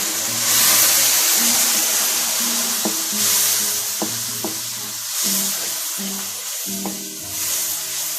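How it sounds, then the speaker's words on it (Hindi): Spice masala with garam masala and ground black pepper fries and is stirred in hot oil with a splash of water, a steady loud sizzle broken by scraping stirs against the pan. "अभी हम इसको 5 मिनट के लिए अच्छे से फ्राई कर लेते हैं"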